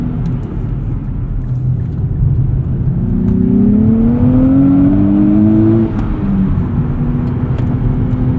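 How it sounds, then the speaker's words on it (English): A 2023 Nissan Z's turbocharged engine accelerates hard as boost builds, a loud steady drone that rises smoothly in pitch over several seconds, then drops briefly at a shift and climbs again. "it is very, very satisfying to bring this engine out when boost kicks in"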